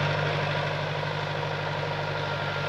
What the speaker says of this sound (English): handing over the reins to Kirk on the tractor to finish tilling up this one